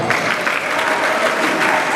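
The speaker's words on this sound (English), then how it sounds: "Can we just appreciate them with a hand clap?" An audience claps steadily at the 2019 graduation ceremony of Adesoye College in Offa, a dense, even wash of hands that lasts the whole moment without a break.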